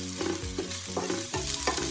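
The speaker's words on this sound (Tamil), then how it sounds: "எண்ணெயை ஊற்றிட்டு இப்போ நறுக்கி வச்ச பூண்டு பச்சை மிளகாய் அதெல்லாம் உள்ளே போட்டு வறுக்கணும்." Chopped garlic and green chillies fry in hot oil while being stirred, a steady close sizzle broken by repeated scraping strokes of a utensil against the pan.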